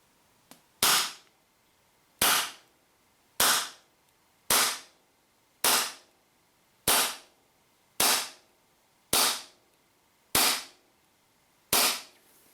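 A WE Glock 17 High-Speed gas blowback airsoft pistol fires ten sharp, snappy shots over a chronograph, spaced about a second apart, each alone, with a faint click before the first.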